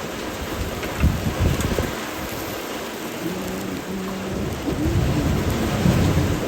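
Heavy rain pours steadily at an outdoor cooking spot in the Louisiana swamps and bayous, with low rumbling thunder rolling through the downpour and a louder surge toward the end.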